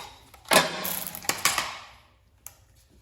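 A ratchet with a 10mm socket works bolts on a John Deere lawn tractor's blade hub assembly, giving a couple of quick, close metallic clicking bursts followed by a faint single click.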